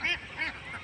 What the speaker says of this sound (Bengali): এদিক দিয়ে কত হাঁস চলে আসছে